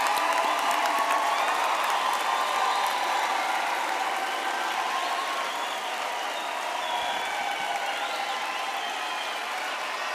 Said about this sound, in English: Let us give our graduates a big hand for their hard work and perseverance.